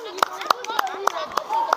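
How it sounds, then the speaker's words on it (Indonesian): A classroom group applauds a student group, with several sharp, evenly spaced claps standing out over scattered talking. "tepuk tangan dulu buat kelompok 2"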